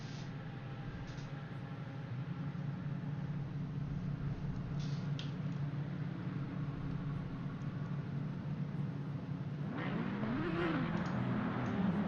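GT3 race cars in Assetto Corsa Competizione roll around Zandvoort on a formation lap, producing a steady engine drone at moderate distance, with a rising rev toward the end and no talking.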